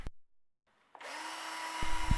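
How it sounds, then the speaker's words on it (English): A nibbler cuts into metal studs with a sharp start, then a steady high-pitched motor whine and grinding runs continuously, with a couple of brief knocks near the end. "Here I am using a tool called a nibbler."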